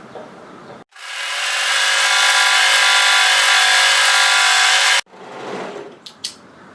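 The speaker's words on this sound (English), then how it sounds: "we're going to overlock to secure that edge to stop it from fraying" An overlocker sewing machine runs in one continuous, loud, even whirring burst of about four seconds while overlocking the top edge of a sweater, with quieter handling noise before and after.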